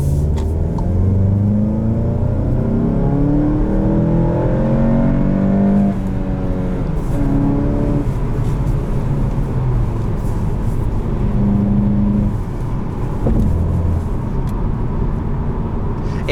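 A manual 2021 Volkswagen Golf GTI SE engine accelerates under load, its steady drone rising through the revs with a few breaks for gear changes, heard from inside the car.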